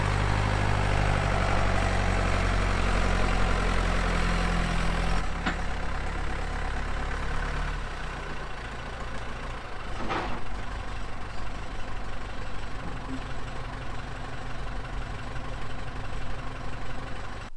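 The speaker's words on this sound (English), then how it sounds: "Dad's bringing the tractor over." A farm tractor engine idles nearby with a steady low rumble that runs through the whole stretch, with a brief shift in tone partway and no talk over it.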